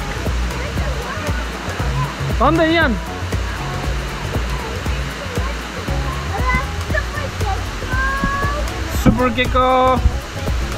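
Steady rushing roar of the waterfall on the rainy Manoa Falls trail on Oahu, a broad continuous wash heard close, while children and adults talk and call out over it.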